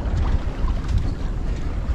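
Wind gusts steadily across a small sailboat out on the ocean, a loud continuous rumble of wind against the microphone with water rushing beneath the hull.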